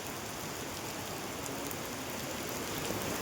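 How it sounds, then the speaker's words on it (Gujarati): Heavy rain falls steadily and loudly in a continuous dense hiss, with flooded streets and half-submerged cars nearby, and no voices. "ભયંકર વરસાદ પડે છે."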